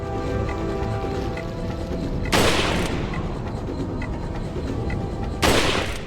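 Rifle shots in the video game Resident Evil 4 (2005) on the island level: two sharp, loud gunshot blasts a few seconds apart over a constant game backdrop of ambience and music.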